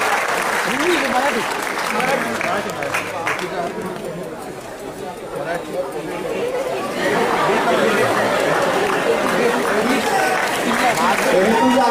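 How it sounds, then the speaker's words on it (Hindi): At a school award ceremony on Martyrs' Day, an audience claps for prize winners. Dense applause mixes with lively crowd chatter, dips briefly in the middle, then swells again to a full, steady clapping. "इनके लिए तालियां इस बार इसलिए बजाना"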